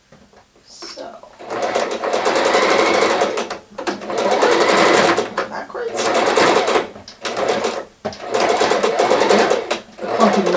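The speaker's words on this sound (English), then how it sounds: "The clumping noise is the thickness of the edge of the bedspread." Sewing machine stitching through the thick edge of a bedspread, running in long loud bursts with brief stops and a clumping rhythm as it crosses the bulky layers; a person talks briefly over it.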